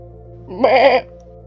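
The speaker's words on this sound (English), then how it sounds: "The most notable advertisement the association made was the sheep video on Vincal Holmes' YouTube channel." A single loud sheep bleat, wavering and nasal, lasts about half a second over a steady low hum, from a sheep in a comedic online advertisement.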